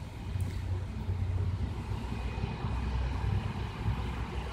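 A Mercedes Sprinter diesel engine, fitted with a new faulty glow plug, idles steadily with a low, continuous rumble, close and even throughout with no talking.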